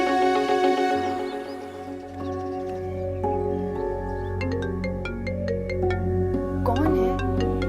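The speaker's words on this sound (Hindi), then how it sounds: "यार Anaya, for God's sake, pick up the phone" A phone ringtone plays continuously, a melodic electronic tune looping with a low steady hum beneath it.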